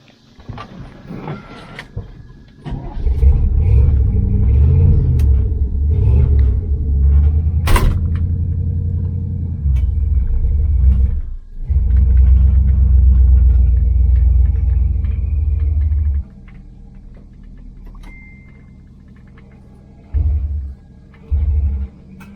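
A 1976 Chevrolet El Camino cranks and catches, then its cold engine runs with a loud, low rumble that drops out and restarts, stalling and sputtering before a couple of brief final bursts.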